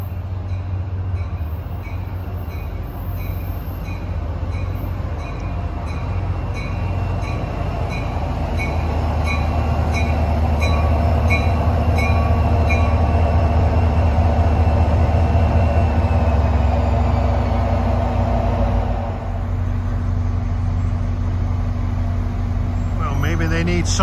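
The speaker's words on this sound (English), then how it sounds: "here comes train 1175, Hoboken to Suffern" NJ Transit diesel train 1175, Hoboken to Suffern, rolls past with a loud, sustained engine drone and rumbling wheels that swells and then eases, with a bright tonal whine on top.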